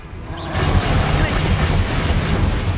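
A Confringo fire spell bursts during Hogwarts Legacy combat, a loud, sustained rumbling blast with crackling, debris-like noise that fills the whole moment.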